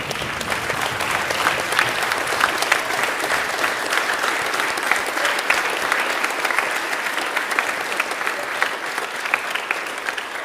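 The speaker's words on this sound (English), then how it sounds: "And applaud for our veterans here." Audience at a Veterans Day chapel service at Canterbury School of Florida applauds the veterans, with steady, dense clapping that holds loud and even for the whole stretch and no break.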